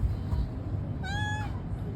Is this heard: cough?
no